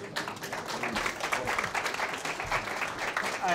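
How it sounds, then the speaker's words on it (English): Audience applause at a Python conference talk on software transactional memory, steady dense clapping filling the room throughout, with a faint voice underneath. "I think that deserves a round of applause."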